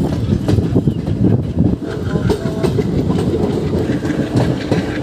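A local passenger train pulling away from a station stop on the Silapathar to Biswanath Chariali line, its loud, steady rumble and rhythmic clatter of wheels on rail heard close from inside the carriage.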